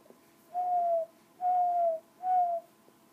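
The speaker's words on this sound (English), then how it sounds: "You gonna do any more whistling?" Three short whistled notes, each gently falling in pitch, evenly spaced with brief silences between, clear against a quiet background.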